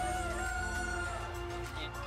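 Buckeye chickens on a farm cluck and crow, a rooster's drawn-out call ringing over a dense, low steady hum, the birds fairly close and without talk.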